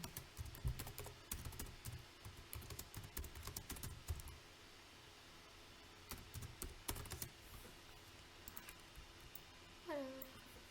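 Keys being typed on a computer keyboard in irregular bursts of quick clicks, fairly close and quiet, with pauses and a soft background hum, ending in a brief high chirp.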